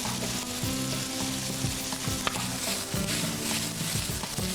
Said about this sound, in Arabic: نجي بعدها عمليه تحريك الدجاج، نحاول نوزع الدجاج في كل المقلاة